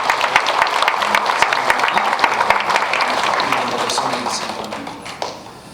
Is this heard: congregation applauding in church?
yes